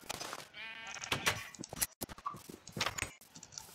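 Sheep bleating in a Minecraft-style survival game, several short wavering bleats in quick succession at moderate loudness, alone without talk.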